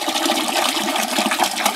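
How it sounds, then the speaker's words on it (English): Tap water pours steadily into a container for a vinegar bath, a close, continuous gushing splash with no talking. "Let me get my water. I'm using just tap water."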